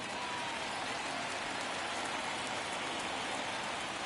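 Steady, dense rain pours down during a baseball game between the Yankees and Tigers, a continuous hiss of drops on surfaces with no break or change in intensity.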